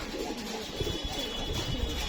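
Pigeons coo near a loft during a racing pigeon toss, with low repeated calls close by over a busy outdoor background.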